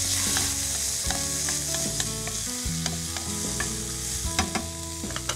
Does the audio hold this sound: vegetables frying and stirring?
yes